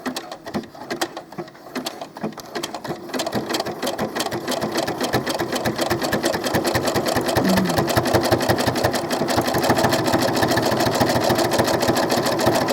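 A sewing machine stitches doll clothes with a rapid, even mechanical chatter that builds from a slower start into steady continuous running, fairly close and alone.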